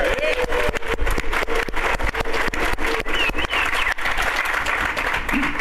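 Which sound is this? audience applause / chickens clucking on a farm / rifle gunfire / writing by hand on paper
audience applause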